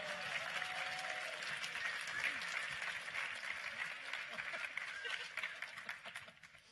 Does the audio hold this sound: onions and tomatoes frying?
no